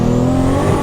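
A tuned 1400 hp Toyota Supra engine holds a loud, close, sustained rev, a brief dense roar with no voices.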